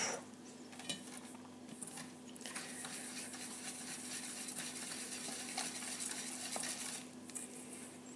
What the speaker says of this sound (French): je mélange jusqu'à ce que j'obtienne une pâte bien homogène et sans grumeaux